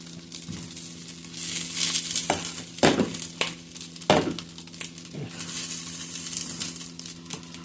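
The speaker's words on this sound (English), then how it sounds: "I'm going to add the sausages." Sausages frying in a pan for brunch, a soft steady sizzle with occasional close clinks and scrapes of a utensil against the pan, fairly quiet and without speech.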